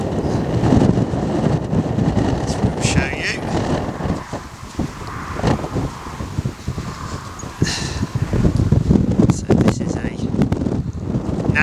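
Strong wind sweeps over the hilltop at Ivinghoe Beacon, an Iron Age hill fort in the Chiltern Hills, roaring and buffeting the microphone in heavy, uneven gusts throughout, with a voice faintly underneath.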